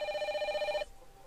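A telephone in the Parasite Eve video game rings with an electronic bell-like trill, one burst of under a second that then cuts off into quiet background.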